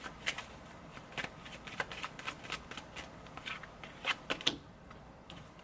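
Tarot cards being shuffled and pulled from the deck: crisp riffling flutters and repeated sharp card snaps at an irregular pace, close up, with no voices.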